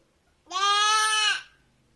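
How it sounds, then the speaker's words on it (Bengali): A goat gives a single loud, close bleat lasting under a second, clean and wavering, with near silence before and after. "আর হচ্ছে ছাগল"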